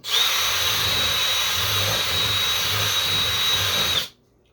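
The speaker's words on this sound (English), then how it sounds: "Drill a hole." A power drill whines steadily at close range for about four seconds, a high sustained motor tone, then cuts off abruptly into silence.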